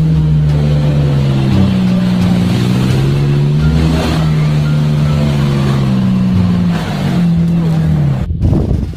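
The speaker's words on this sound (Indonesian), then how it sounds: "Di sini ada mobil off-road." A green off-road car's engine drones loudly and close in a long steady rev, its pitch wavering up and down, with a voice talking over it near the end.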